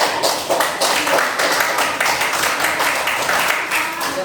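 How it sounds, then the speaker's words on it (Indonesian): Classroom applause for the strawberry group, a dense burst of many hands clapping steadily at close range, with faint voices underneath. "Tepuk tangan untuk kelompok stroberi"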